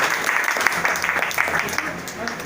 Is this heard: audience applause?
yes